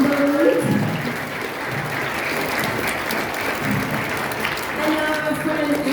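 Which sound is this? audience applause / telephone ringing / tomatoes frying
audience applause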